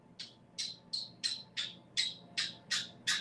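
Pet birds in a cage give a quick series of about nine sharp, high squawks, evenly spaced and fairly faint, over a quiet room.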